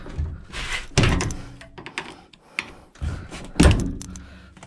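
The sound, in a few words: forcing open damaged Mercedes Sprinter rear doors, thunking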